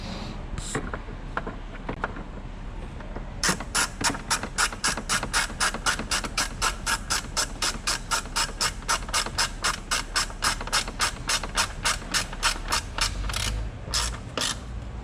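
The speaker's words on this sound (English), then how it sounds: "we'll put our screws back into place" A ratchet drives screws during a Tesla Model X frunk installation, giving a close, steady run of evenly spaced clicks that lasts most of the span, with a few separate clicks before it and after it.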